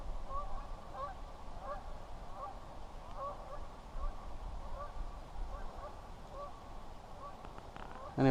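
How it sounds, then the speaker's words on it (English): A flock of geese honking repeatedly while coming in to land, a steady run of distant calls over a low outdoor rumble, with no talking. "there's some geese coming in for a landing"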